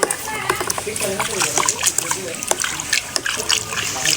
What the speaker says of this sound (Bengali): পটাশ দিয়ে পানিগুলো ভালো করে নেড়ে নেবেন